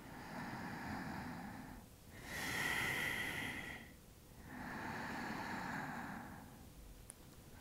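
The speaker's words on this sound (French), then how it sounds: "on vient prendre 3 respirations" Slow, deep breaths during a beginner yoga side stretch, three long airy inhales and exhales swelling and fading close to the microphone, with no talking.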